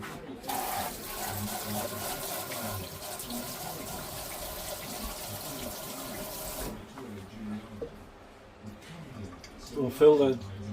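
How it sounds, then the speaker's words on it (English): A tap runs into a kitchen sink as sticky hands are washed, an even hiss for several seconds that stops, followed by faint rattling and handling sounds. "I'll just get rid of these eggshells and I'll wash my hands"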